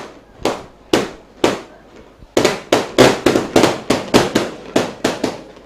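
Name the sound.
firecrackers going off at a school rugby league match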